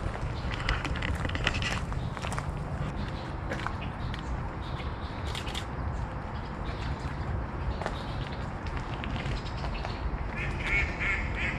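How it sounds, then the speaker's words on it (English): Ducks quack steadily at Lynde Shores Conservation Area over a constant outdoor noise bed, with scattered footsteps nearby on the trails and no talking. "Alright, we got some ducks."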